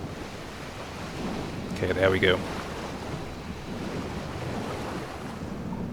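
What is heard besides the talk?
ocean waves around a diving U-boat in the video game Silent Hunter 3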